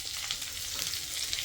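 Diced onions frying over high heat in a pan for chilli chicken, a bright steady sizzle with crackling pops close by, no voices.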